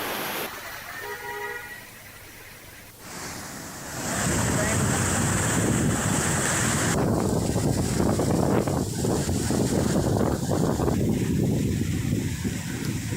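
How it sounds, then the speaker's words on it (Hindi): The flooded Latia drain in Rajasthan surges after heavy rain, a loud, continuous roar of rushing water mixed with wind buffeting the microphone, swelling abruptly partway through and staying dense to the end. "लटिया नाला पूरी तेजी से बह रहा है"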